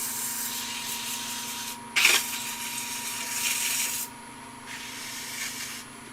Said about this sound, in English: I probably ought to use a little finer grit sandpaper, so let's handle that.